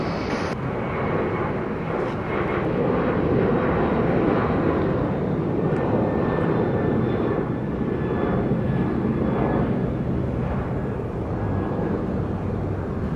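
An airliner landing on runway 25 at Sangster International Airport in Montego Bay, Jamaica, gives a loud, steady, broadband engine roar that fills the whole stretch without letting up.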